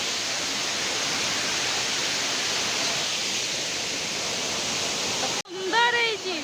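Water rushing under a bridge at Sanghagara, a steady broadband roar of flowing water held evenly at moderate level, then cut off abruptly near the end.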